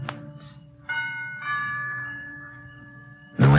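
A doorbell at the front door of a villa rings in a radio drama effect, a sustained bright electric chime held for a couple of seconds against quiet background, ending with a sudden louder burst.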